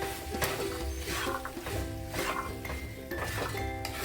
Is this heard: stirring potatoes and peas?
yes